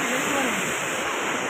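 Pressurised water gushing outdoors, a steady loud broadband rush with no pauses throughout, close by.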